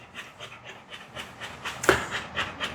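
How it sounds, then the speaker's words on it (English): Rhythmic, heavy panting breaths repeat in quick succession, close and moderately loud, with a brief sharp sound partway through. "A lot of heavy breathing."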